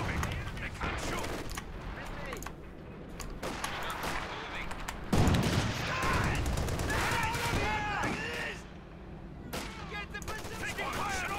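Gunfire in Company of Heroes 2, a World War II strategy game, with repeated crackling shots and bursts over a busy battlefield backdrop while voices talk throughout.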